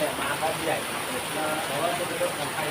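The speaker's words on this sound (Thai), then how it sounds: "ฝนก็กำลังตก" Steady rain patters on surfaces, a soft continuous wash with faint voices murmuring underneath.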